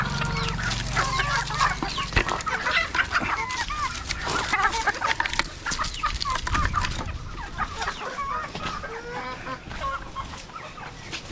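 Broodcock chickens cluck and call steadily while being fed grain, several birds close by in a continuous, busy chorus with no talking.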